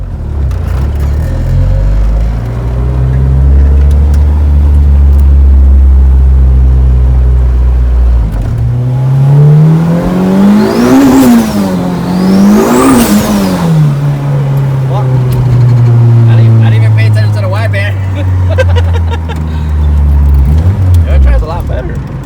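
A turbocharged Honda B20 VTEC hatchback engine revs hard on a test drive, rising and falling through two sharp climbs before settling into a steady drone, loud and close throughout.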